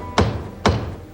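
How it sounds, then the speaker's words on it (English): Two firm knocks on a door, a half second apart, loud and close with short dull thuds and nothing else around them. "there was a knock at my door"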